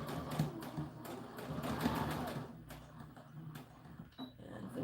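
A sewing machine stitches the seam of a doll dress, a steady mechanical whir that runs for about two and a half seconds and then stops, followed by faint handling noises.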